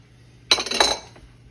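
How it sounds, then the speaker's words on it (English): Carrots dropped into a pot of corned beef and cabbage, a short close clatter of pieces hitting the pot and each other, then quickly fading to quiet. "Add my carrots to this."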